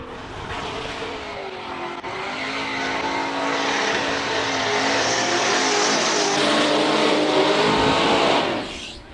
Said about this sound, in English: That's how you warm up a Z4 BMW.